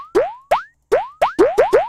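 A platformer video game's jump sound effect: seven springy, rising boing-like chirps, each bright and short, fired in an uneven rhythm that speeds up toward the end, heard alone and clear.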